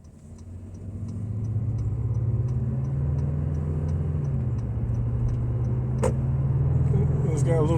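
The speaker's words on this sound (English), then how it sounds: "You can hear a little growl from the V6 engine when you accelerate." A 2022 Honda Passport EX-L V6 engine growls steadily from inside the cabin as it accelerates, a low continuous rumble that rises gently and holds at moderate level throughout.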